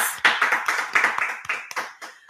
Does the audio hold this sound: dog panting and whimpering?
no